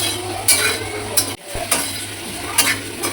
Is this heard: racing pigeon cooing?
no